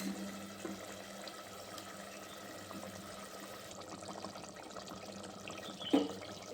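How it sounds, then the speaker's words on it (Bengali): Pieces of satin fish are slipped one by one into a boiling Bengali kalia curry: faint, steady bubbling and watery simmering, with a soft splash near the end. "ফুটে গিয়েছে, এবার মাছগুলো দিয়ে দিচ্ছি একে একে।"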